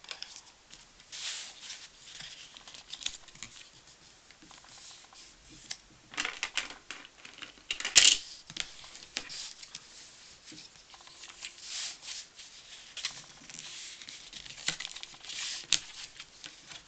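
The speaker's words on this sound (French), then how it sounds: "On marque les plis." Folds are creased into a paper card for a magic card craft, heard as faint, close rubbing and pressing with scattered soft taps and one sharper crinkle partway through, and no talking.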